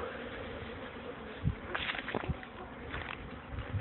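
Honeybees buzzing at a beehive in an apiary, a steady low drone running throughout with a few louder passes close by as individual bees fly near.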